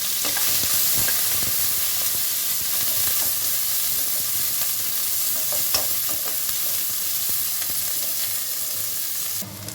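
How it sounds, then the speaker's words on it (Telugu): Onions, curry leaves and green chillies fry in a pan for an egg fry dish, giving a loud, steady sizzle that runs unbroken throughout with occasional sharper crackles and no talking. "నెక్స్ట్ ఆనియన్స్, కరివేపాకు, పచ్చిమిర్చి సన్నగా కట్ చేసుకొని ఫ్రై చేసుకోవాలి"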